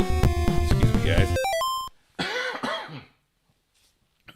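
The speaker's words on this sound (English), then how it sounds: "sorry if I'm coughing a lot here" A person recovering from COVID coughs a few times, harsh and close, over game sounds at the start, then the room goes quiet.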